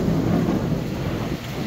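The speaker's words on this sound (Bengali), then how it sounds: "প্রচুর বজ্রপাত হচ্ছে বন্ধুরা," Thunder rumbles through a heavy rainstorm, a steady low roar with dense rain noise layered on top, loud and continuous with no speech.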